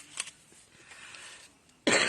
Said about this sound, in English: I woke up this morning with a cough.